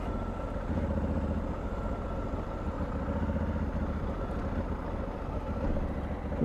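Honda Africa Twin motorcycle riding along a broken-up road of mixed gravel and dirt, its engine a steady, continuous low drone throughout with no talk.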